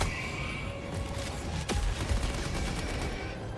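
Automated turret in the video game Helldivers 2 firing a sustained fusillade of rapid gunshots, dense and loud over battle din, with a sharp boom partway through.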